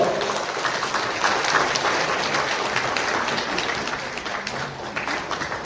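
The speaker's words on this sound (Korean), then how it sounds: "수고해주신 후보님들께 다시 한번 응원의 박수 부탁드립니다" An audience at a Democratic Party North Gyeongbuk provincial convention in a hotel in Andong applauds the candidates, dense sustained clapping throughout at steady volume.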